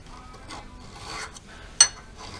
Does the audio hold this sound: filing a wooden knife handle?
yes